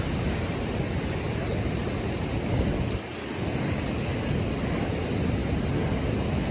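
A mountain river on a Himalayan trek between Upper Sinuwa and Deurali roars loud and steady, a dense rushing wash of water that barely dips for a moment before surging on.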